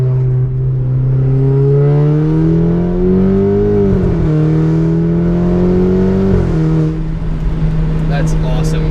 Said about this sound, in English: You hear that turbo spool?